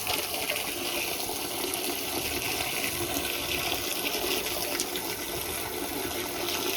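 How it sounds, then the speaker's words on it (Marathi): Water from a newly drilled borewell at a house construction site gushing out under pressure, a steady loud hissing rush of splashing water that runs continuously without any speech. "हे बघा पाण्याचं प्रेशर कसं आहे"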